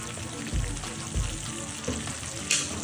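Chicken 65 frying in a pan with a steady sizzle, as soy sauce and chili sauce go in, with a few soft low thumps and a brief brighter hiss near the end.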